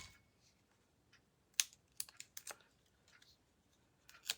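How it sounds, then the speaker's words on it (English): Scissors snip through a sticker in a few short, sharp crisp cuts, heard close and quiet with small pauses between them and no talking. "then I'll just cut that sticker"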